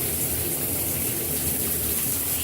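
A shower runs over a bathtub in a steady, even hiss of spraying water, with no voices over it.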